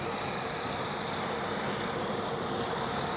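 A float plane's propeller engine roars steadily as it takes off from the water at Brooks Camp in Katmai National Park, Alaska. The drone is broad and constant, heard from nearby with no voices over it.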